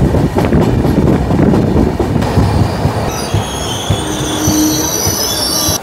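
The Tamralipta Express runs steadily along the tracks between Digha and Howrah, heard from on board as a loud continuous rumble with rhythmic clatter of the wheels and a high wheel squeal rising in the second half.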